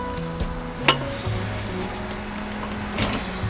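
Pork chops sear in a hot pan with a steady, loud sizzle and crackle, and a few sharper pops and clinks break through now and then.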